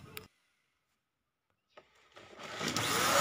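A Deerma DX700 2-in-1 handheld vacuum cleaner starts up after a short click and silence, then whirs loudly in a steady, rising roar.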